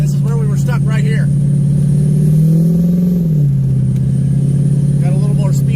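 An off-road vehicle held in second gear grinds through deep snow on a mountain trail in a blizzard, its engine droning loud and steady with a rising then falling pitch, while people talk over it.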